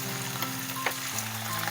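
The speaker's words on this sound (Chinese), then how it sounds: "继续翻炒一下，把蒜末也炒香" Garlic and chopped chili sizzle in hot oil over medium-low heat while being stir-fried, a steady close crackle with a faint steady hum running beneath it and no talking.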